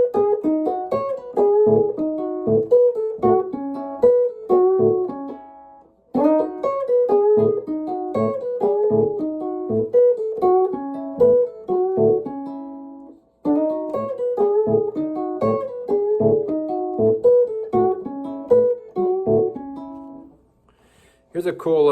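Electric guitar in an early Chicago blues style, with a thumping low A bass note pulsing steadily under repeated licks and double stops. The phrases are played clean and fairly loud, with brief gaps between passages and no talking.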